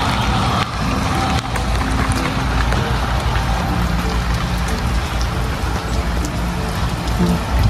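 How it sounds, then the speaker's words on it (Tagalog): Heavy rain during a storm in Canada with a tornado warning, falling as a dense, continuous loud patter with a steady low rumble underneath, lasting the whole stretch with no voices. "Lakas yung ulan."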